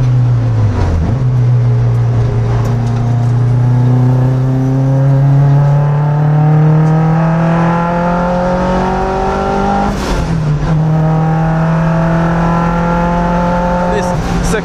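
A boosted Mazda MX-5 Miata laps The Bend International Circuit in Australia, its engine loud and close in a long rising drone through the gears, with brief lifts and shifts around the corners while a voice talks over it.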